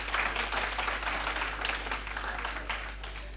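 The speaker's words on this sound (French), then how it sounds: "Applaudissez pour eux." A steady wash of audience applause at a high-school quiz competition, many hands clapping together at an even level for several seconds with no voices on top.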